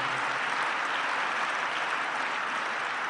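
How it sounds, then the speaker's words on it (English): A crowd at a political speech claps continuously, a uniform, fairly distant patter of many hands with no pauses or voices. "Who's clapping hands?"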